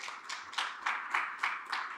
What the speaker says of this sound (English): Round of applause for Simon, please.